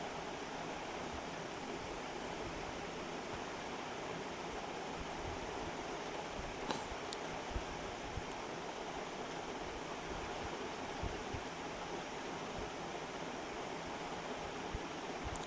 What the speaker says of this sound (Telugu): ఇలా మసులుతున్న వాటర్లో